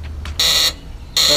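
Golf cart reverse warning beeper sounding two loud, steady high-pitched tones separated by a short gap, close by, with no talk over it.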